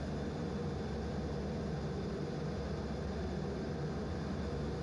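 A steady, broadband jet-engine roar comes from an F/A-18 Echo carrying an AIM-9 on the left wingtip as it taxis forward nearby, constant and loud with no voices.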